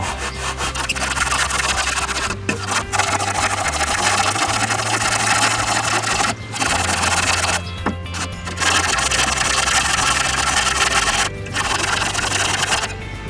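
Honda CD50 engine part being sanded flat by hand on sandpaper laid over glass: loud, rhythmic back-and-forth rasping strokes, nearly continuous, with a few brief pauses between passes.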